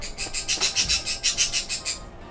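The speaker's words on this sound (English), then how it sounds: "Can you not, birds? Can you not make noise?" Birds chirp in a quick, even run of about a dozen bright, rhythmic calls in the Trails in the Sky video game, fairly close and steady, then cut off abruptly.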